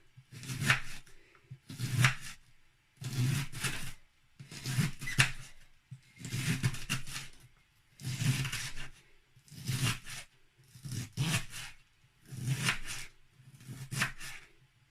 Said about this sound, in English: This is my cabbage. I'm going to cut it into small pieces.